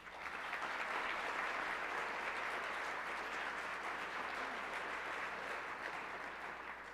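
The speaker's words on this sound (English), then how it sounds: "Let's give them a round of applause." Banquet audience at a university honors banquet breaking into steady applause, a broad even wash of clapping from many hands that swells and holds for several seconds at moderate distance.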